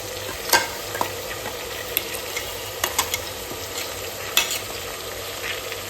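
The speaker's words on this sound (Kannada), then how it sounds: "ಸೊ ಅದನ್ನ ಇವಾಗ ನಾನು ಉಳ್ಳಾಗಡ್ಡಿ ಟೊಮ್ಯಾಟೊ ಏನ್ ಒಗ್ಗರಣೆ ಐತಲ್ಲ ಸೊ ಅದಕ್ಕೆ ಹಾಕೊಳಕತ್ತೇನಿ" Masala paste stirred into a sizzling onion and tomato tempering for egg biryani, with a steady frying hiss and scattered scraping knocks from the stirring spoon, close up with no talk.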